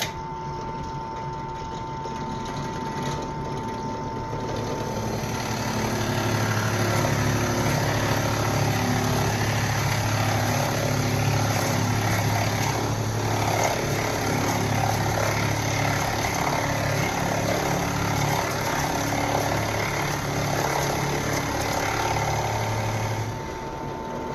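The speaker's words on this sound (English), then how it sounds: "So we'll drill out the first hole and we'll see what we get here." A drill press boring a hole in wood for a rustic five-votive candle holder, a steady whirring motor drone that swells louder midway and holds for about twenty seconds before easing off, with no talk.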